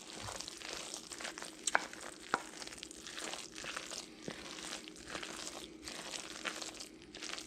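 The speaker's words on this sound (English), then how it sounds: "I'm going to just try to stir up the stuffing and the green beans and corn" A spoon works through stuffing, green beans and corn in a crockpot, giving soft, moist crinkling and scraping textures with a few sharper clicks against the pot, faint and close.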